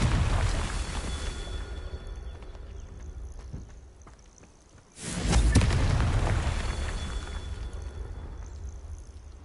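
A video-game Confringo blasting spell goes off in one deep, loud explosive boom that swells and then rolls away, following a quieter stretch of rumbling game sound.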